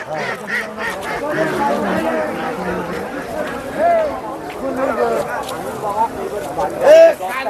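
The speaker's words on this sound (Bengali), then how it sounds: "এখানে প্রচুর হাঁস রয়েছে প্রচুর মুরগি রয়েছে" A crowd of ducks quack and chatter noisily nearby amid busy talk of people at the Krishnanagar market, with a few louder honking calls standing out.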